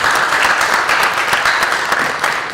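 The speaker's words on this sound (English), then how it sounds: "So round of applause to you guys because you do a great job." Loud, dense applause from a crowd, steady clapping throughout without a break.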